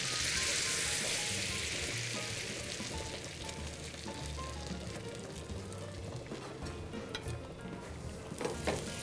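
Sugar caramelizes with apples in a pan, producing a constant close sizzle and bubbling hiss that eases slightly over time, with a few sharper crackles near the end.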